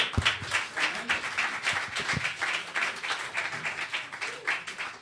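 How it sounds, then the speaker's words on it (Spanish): Loud, sustained applause from a church congregation fills the space, dense clapping continuing steadily without a break. "Un aplauso fuerte"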